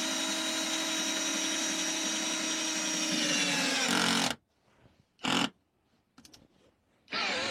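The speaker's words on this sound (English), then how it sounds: "drill the hole, and hopefully we can get outside" A power drill with a 20mm bit whines steadily and loudly for about four seconds boring through a wall, then stops, followed by a few short bursts of drilling with quiet pauses between.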